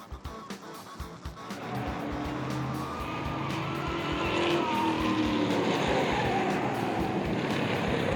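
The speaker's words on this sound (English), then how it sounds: "he spun out of turn 4, but he keeps control and keeps it out of the wall" A race car spins out of turn 4 on an oval track during a 2002 race, a loud sustained engine roar with tire noise that builds and holds, with no voices.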